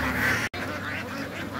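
Domestic ducks eating paddy grain poured into water, with a steady close wash of dabbling and soft quacking, briefly cut by a short dropout partway through.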